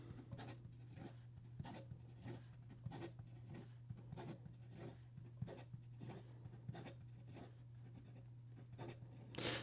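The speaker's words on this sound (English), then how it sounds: "In regard to some fast writing" Fountain pen nib scratching quickly across paper in a series of short, intermittent strokes, faint and close, over a steady low hum.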